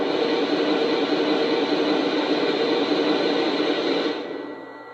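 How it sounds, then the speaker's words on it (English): A steam blowdown effect from a Lionel Union Pacific 844 4-8-4 model locomotive gives a steady loud hiss of rushing steam for about four seconds, then quickly trails off. "Here is the steam blowdown sound."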